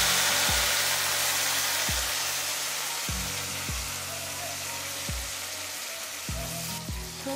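Browned onions and mixed vegetables fry in hot oil in a pan, a continuous crackling sizzle with a recurring low thump roughly every half second beneath it.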